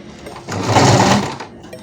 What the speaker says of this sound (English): then I'll start to sew it with zigzag stitches